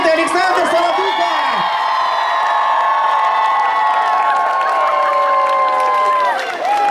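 A concert crowd cheers and whoops over sustained applause at an Independence Day of Belarus show, with a voice speaking loudly over the noise throughout.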